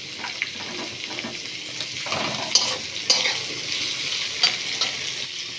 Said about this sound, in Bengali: পেঁয়াজটাকে আমি ব্রাউন কালার করব না, হালকা একটু ভাজা হলে এর মধ্যে টমেটো কুচিগুলো দিয়ে দেব।